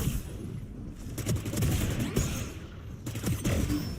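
Bursts of gunfire in a Valorant match crackle in rapid volleys, several sharp shots and fusillades spread across the moment at moderate loudness, with no talk over them.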